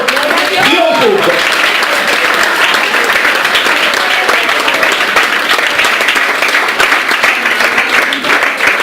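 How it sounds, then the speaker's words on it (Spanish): Loud, sustained applause from a large church congregation during a Sunday service, dense clapping throughout with a voice calling out briefly near the start. "Den un aplauso a ese Señor."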